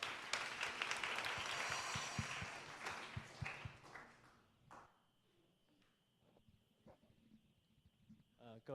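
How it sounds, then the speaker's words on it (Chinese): A church congregation at a Saturday worship service claps in welcome for a young member about to share a testimony, a dense burst of hand applause lasting several seconds before fading into a quieter room with scattered taps. "那我们也一起拍手来欢迎孔令成"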